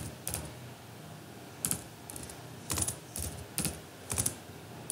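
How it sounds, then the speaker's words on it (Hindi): Typing on a computer keyboard while entering text into an MS Excel 2007 spreadsheet, with close, crisp clicks arriving in short irregular bursts separated by brief pauses. "आप कुछ भी टाइप कर सकते हैं, जैसे मैं टाइप कर रही हूँ"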